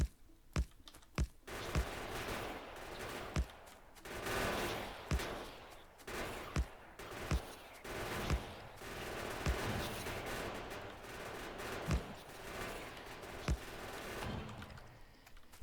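Gun turrets in modded Factorio fire sharp, evenly spaced shots over a continuous low rumble of battle noise.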